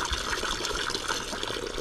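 Warm water pouring into an animal's water container outdoors on a snowy farm, a steady splashing gush that runs continuously without pause, close and fairly loud, with no speech.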